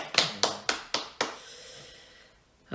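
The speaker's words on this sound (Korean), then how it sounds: "다 박수 치고 계시죠?" Five sharp, evenly spaced hand claps ring out close by in a church service, each decaying quickly, followed by a quiet pause and a brief final burst.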